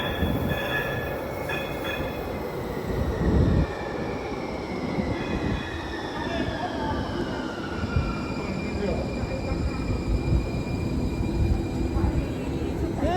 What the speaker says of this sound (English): So here comes a train into the station.